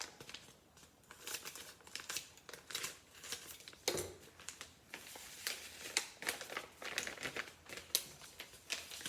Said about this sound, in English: I'm going to add my seasoning package, which I hadn't opened yet.